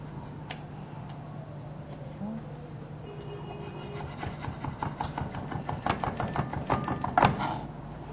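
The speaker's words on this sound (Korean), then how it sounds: "황백지단을 한번 썰어 볼게요" A knife cuts yellow and white egg garnish strips for bibimbap, quiet scraping strokes that turn into a quickening run of close, crisp taps on a cutting board toward the end.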